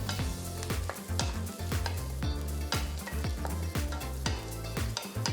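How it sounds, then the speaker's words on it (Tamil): Fenugreek seeds frying lightly in a pan for tomato kuzhambu, a constant sizzle beneath regular stirring scrapes and light metallic clinks, close and steady, no talk. "இந்த வெந்தயம், இதை போட்டு லைட்டாக ஃப்ரை பண்ணுங்கள்."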